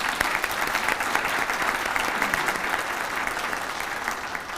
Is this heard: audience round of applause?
yes